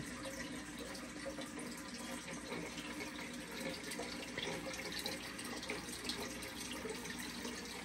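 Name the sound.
fish tank water running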